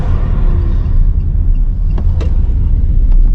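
A Russian Lada Kalina car drives with a loud, steady low rumble of engine and road noise close by, with a few faint clicks over it.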